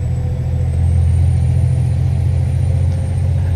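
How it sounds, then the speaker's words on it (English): A heavy truck in American Truck Simulator rumbles steadily with its Jake brake engaged, a loud, low, continuous engine growl that swells slightly partway through, with no voices. "I love the Jake brake sound"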